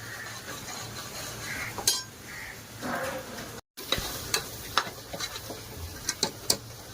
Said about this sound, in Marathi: आता हे आपण छानपैकी भाजून घेऊया. तेल सुटेपर्यंत चांगलं भाजायचं.